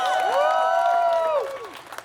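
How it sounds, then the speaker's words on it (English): An audience at a Juneteenth celebration whoops and cheers with scattered clapping, loud rising and falling shouts that hold for over a second and then fade into lighter applause. "Round of applause"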